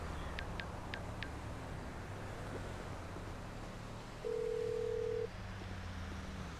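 Four short high phone-dialing beeps open a quiet scene in Grand Theft Auto V, placing a call for a taxi, followed later by a steady tone over a low background hum.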